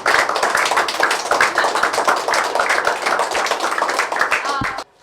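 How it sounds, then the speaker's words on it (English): Students in a classroom clap for classmates heading to an audition: loud, dense, close clapping from many hands, steady for about five seconds before stopping abruptly. "And also round of applause for people who are going for the audition today."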